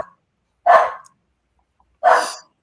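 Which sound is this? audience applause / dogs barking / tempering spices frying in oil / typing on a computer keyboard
dogs barking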